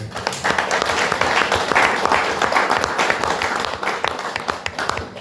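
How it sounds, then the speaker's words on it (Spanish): A strong round of audience applause at a Christian businessmen's fellowship chapter meeting, a dense, lively burst of many hands clapping that stays loud and full for several seconds. "Le damos un fuerte aplauso."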